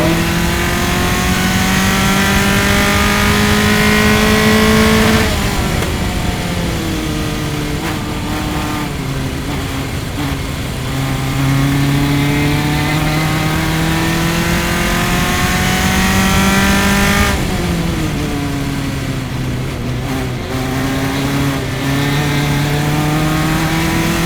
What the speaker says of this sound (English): let's try and listen to that engine